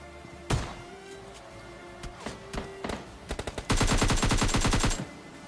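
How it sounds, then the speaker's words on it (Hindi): Shotgun and gunfire in the PUBG Lite video game: a sharp single shot, scattered lighter clicks and bangs, then a dense burst of rapid automatic fire lasting over a second, loud and close. "भाई साहब इस बंदे को तो क्या ही मस्त शॉटगन पड़ी थी एकदम हेड पे"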